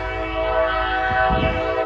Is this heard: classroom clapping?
no